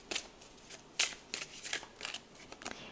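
A deck of tarot cards being shuffled up close, quick papery riffles and flicks in short bursts across the clip with no voice.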